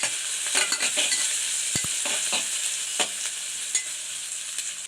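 Thinly sliced onions sautéing in a pan for radish biryani give a continuous bright sizzle with intermittent stirring clicks and scrapes, close and alone without voices.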